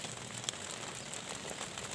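Steady rain falling outdoors in a chili pepper field, a soft continuous patter with occasional distinct drops, fairly faint and uninterrupted.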